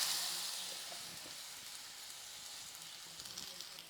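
Chopped ripe banana frying in hot ghee in a pan, a soft, faint sizzle that starts stronger and settles into a quiet steady crackle.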